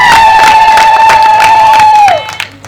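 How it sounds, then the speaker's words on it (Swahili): Church congregation applauding and cheering for Jesus, a dense crowd roar with a sustained high tone running through it before fading out near the end. "Pigia Yesu makofi mengi"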